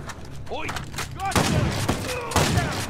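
Rifle shots from a Condor in the Uncharted 4 video game ring out in a few loud, sharp bursts amid other game noise, with some voices under them.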